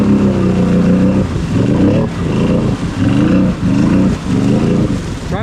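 A Can-Am Outlander 850 XMR ATV stuck in mud, its engine revving hard and loud in repeated surging pulses, each climb in pitch dropping back briefly before the next, close up with no talk.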